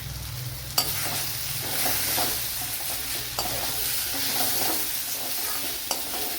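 Chili powder, coriander powder and turmeric roasting in oil in a pan for a Kerala brinjal curry make a dense, close sizzle. Occasional sharp spatula scrapes and knocks cut through the steady frying.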